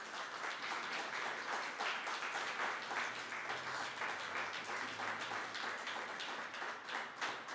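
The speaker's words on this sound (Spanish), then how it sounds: "dale ese fuerte aplauso a Él en esta mañana" A church congregation breaks into sustained applause, a dense, even wash of many hands clapping at a fairly distant, moderate level, with no talking over it.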